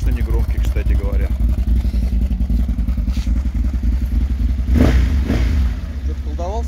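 An ODES 1000 utility vehicle's engine and fairly quiet exhaust rumble steadily with low revving surges, close and continuous, with a brief sharper rise near the end; a person talks over it.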